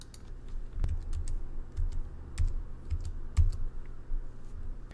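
A six-digit authenticator code being entered on a computer keyboard: a string of distinct, close key taps spaced irregularly over a few seconds against a quiet room background.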